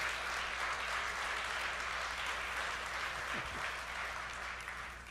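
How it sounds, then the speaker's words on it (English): Steady audience applause for Howard at a Black Lung and PMF summit, a soft, even roar of many hands clapping that holds for several seconds and fades slightly at the end. "Let's give Howard a round of applause."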